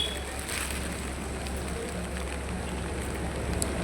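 Rain falling steadily outdoors during monsoon weather in Diu, a continuous broadband hiss of drops on surfaces, close and even throughout.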